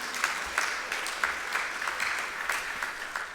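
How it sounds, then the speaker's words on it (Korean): Congregation applauding during a church service for the men's and women's mission groups, steady dense clapping filling the room throughout, moderately loud with faint periodic swells. "다시 한번 박수하도록 하겠습니다"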